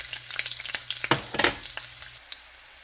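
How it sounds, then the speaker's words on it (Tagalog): Onion dropped into hot cooking oil, crackling and sizzling in dense bursts that settle into a quieter fry, close and clear with no talk. "nagpainit na tayo ng mantika at ilalagay ko na po yung onion niya"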